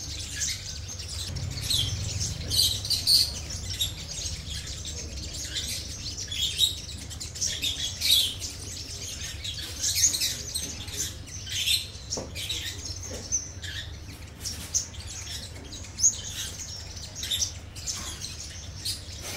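A sunbird set out in the sun chirps and twitters in short, sharp bursts, with a nearby wild bird answering, scattered calls repeating over a quiet background.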